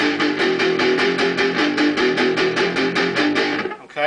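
Opening riff of a song played as distorted power chords on electric guitar, loud, rhythmic chugging repeated hits for about three and a half seconds, then trailing off.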